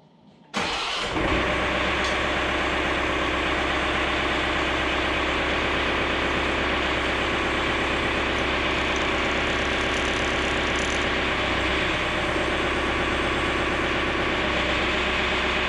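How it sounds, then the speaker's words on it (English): A John Deere 4066R tractor's engine cranks briefly, fires, and settles into a loud, steady diesel idle that runs uninterrupted, heard up close. "when I go crank the tractor up, the top cylinder should move"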